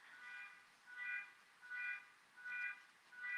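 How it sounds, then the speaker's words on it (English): A neighbors' car alarm sounds faint and distant, repeating a rising and falling electronic wail about every 0.7 seconds, with no voices. "Maybe because I'd like for my neighbors to knock it off with the car alarm."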